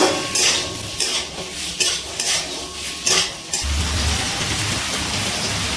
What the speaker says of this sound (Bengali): এবার খুব ভালো করে সব কিছু নাড়াচাড়া করে একটু হালকা ভেজে নিচ্ছি